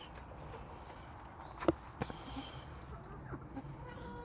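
Chickens in a backyard pen give a few short, scattered clucks amid quiet rustling and shuffling, with no talk over them.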